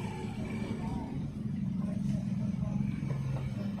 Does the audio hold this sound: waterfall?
no